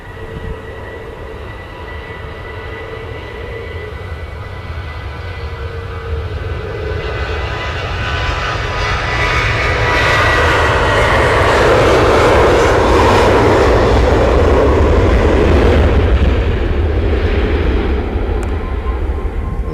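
TUI airliner engines at Manchester Airport, a broad roar that builds from a moderate rumble to a loud, sustained thunder and holds there, heard from a distance outdoors.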